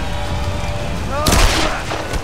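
Cannon fire in the Tomb Raider video game: a single loud, broadband boom bursts out about midway, trailing off over a second, against steady game ambience with faint background voices.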